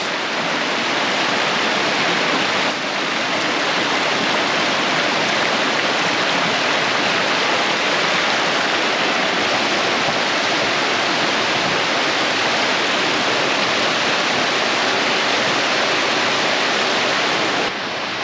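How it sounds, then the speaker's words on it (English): A waterfall in the Hoh Rainforest of Olympic National Park roars as a loud, continuous broadband rush of falling water, steady and unbroken, heard without any talking. "right in there's a waterfall"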